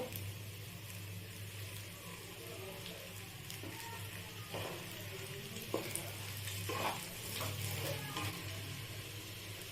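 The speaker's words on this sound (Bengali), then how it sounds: "আবার নাড়াচাড়া করব বেশ কিছুক্ষণ আমার এটা ভাজা ভাজা হয়ে গেছে" Rice being fried in ghee for Basanti pulao, with a soft sizzle and occasional faint stirring scrapes under a low steady hum.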